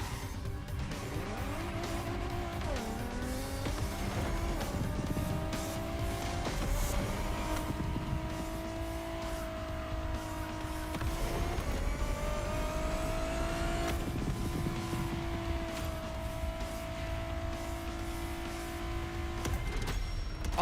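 A racing car in The Crew Motorfest drones on steadily, its engine pitch climbing and dropping through gear changes, with intermittent tire squeal mixed into the continuous game audio.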